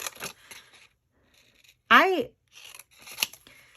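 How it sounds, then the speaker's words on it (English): Scissors snip off a stray edge of paper from a stamped notepad craft, with a short crisp cut standing out between bits of nearby speech. "We just cut that off."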